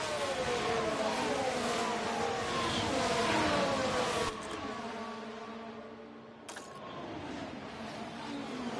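Formula 1 cars from the racing game F1 Manager 24 at Spa roar past with rising and falling engine whine, loud for several seconds before dropping away, then a brief sharp burst near the end.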